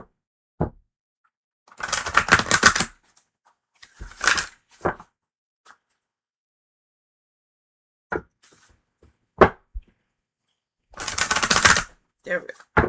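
Tarot and oracle cards shuffled in bursts of dense riffling flicks, separated by quiet pauses and a few isolated taps as the deck is handled up close.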